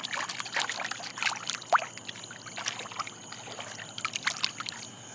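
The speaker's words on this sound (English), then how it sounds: "And you can hear the water." Water trickling and lapping in a backyard swimming pool outdoors, soft splashy pours and dribbles continuing steadily at moderate distance, with a faint chirp or squeak briefly rising mid-clip and no talking.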